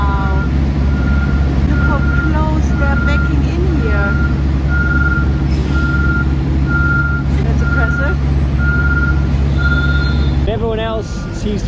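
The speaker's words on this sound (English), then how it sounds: "the trucks, they have to reverse" Steady rhythmic reversing beeps ring out over a loud, constant truck engine rumble as trucks reverse onto a boat, with faint voices and background activity.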